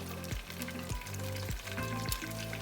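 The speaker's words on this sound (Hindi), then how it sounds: "ऑयल को जैसे ही वो गर्म हो जाए उसमें आप ऐड करें 1 टेबलस्पून जिंजर गार्लिक पेस्ट" Ginger garlic paste fries in hot oil with a low, constant sizzle, broken by a few soft scraping strokes from stirring, quiet and close with no one speaking.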